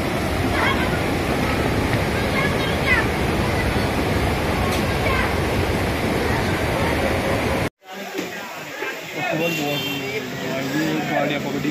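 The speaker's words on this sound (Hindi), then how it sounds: "बारिश तेज आ रही ना आज।" Steady, dense rushing noise of torrential rain and floodwater running through streets in Dehradun fills most of the clip, cuts out sharply for a moment, then resumes slightly thinner.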